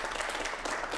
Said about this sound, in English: let's get a little round of clapping going on right now